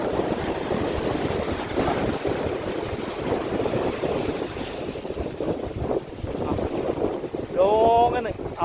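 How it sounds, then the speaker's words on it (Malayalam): Sea waves roll in against a rocky shore, a steady roar of surf mixed with heavy wind buffeting the microphone, while a fishing boat approaches in the distance; a brief whistle-like tone sounds near the end. "അതാ വരുന്ന തിരമാല"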